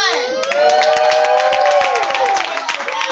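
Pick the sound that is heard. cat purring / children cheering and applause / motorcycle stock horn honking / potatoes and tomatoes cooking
children cheering and applause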